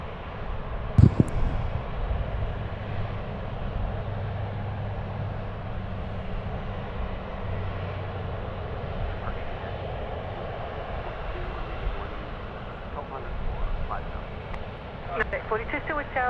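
A United Airlines airliner rolls down the runway and lifts off at Sydney Airport, a steady distant jet rumble running throughout beneath a voice and air traffic radio chatter.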